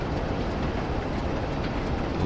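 Simulated train running in the railway game Train Sim World 2, a steady, dense rumble of wheels and engine that stays even and loud throughout with no talk over it.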